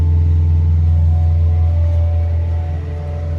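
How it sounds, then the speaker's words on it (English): A tree trimmer runs in the background beside a Honda CR-Z, giving a steady, loud, low droning engine hum that holds evenly throughout. "Sorry about the tree trimmer in the back"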